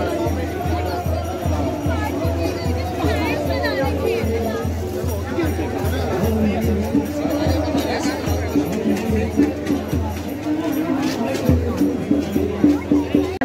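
A busy market crowded with shoppers, a steady babble of many voices and general bustle close around, with people talking nearby over the hubbub.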